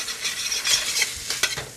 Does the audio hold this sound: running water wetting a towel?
no